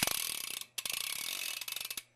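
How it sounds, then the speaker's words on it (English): Rear hub of a BMX bike freewheeling, a fast ticking ratchet clicking in two bursts with a short pause between, close and alone, slowing slightly as each burst fades. "here's what the hub sounds like."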